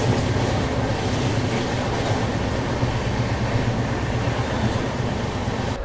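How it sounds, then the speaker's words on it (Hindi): Train 12584, a double decker, departs Moradabad Junction with a steady, even rumble of moving carriages heard from on board, with faint wheel noise and no voices. "4:58 पर मुरादाबाद जंक्शन से डिपार्चर लेती हुई अपनी ट्रेन।"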